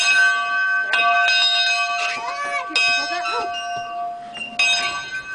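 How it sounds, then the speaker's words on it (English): A bell at a train museum rings out repeatedly in several clanging strikes, each tone ringing on and overlapping, with voices talking nearby between the rings. "He's ringing the bell, Dad."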